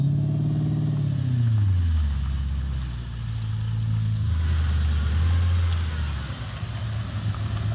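An Audi RS4 that had sat unused for years, driving off: a mid-pitched engine rising and falling through gear changes, close and steady throughout.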